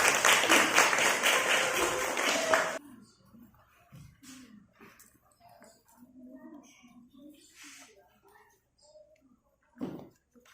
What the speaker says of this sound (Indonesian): Berikan dulu aplaus untuk kelompok 1.